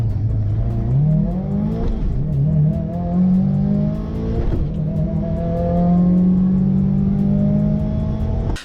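A 2015–2019 Subaru WRX STI running E85 launches from a standstill, its engine revving hard and climbing through gear changes in a loud, close, rising roar heard from inside the car.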